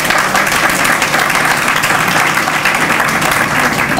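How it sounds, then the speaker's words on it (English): Audience at a youth tech program graduation breaks into loud, dense applause, many hands clapping steadily throughout without a break. "Let's give them a round of applause."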